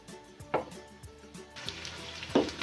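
Chopped onions sizzle steadily in hot oil while being fried to light brown for a beef trotters (paya) dish, with a few louder clinks of stirring, the last one near the end.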